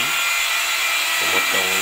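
A power tool cuts through a ceramic mosaic tile during tiling work, a steady harsh hiss that is loud and close for the whole short stretch, with a lower tone entering near the end.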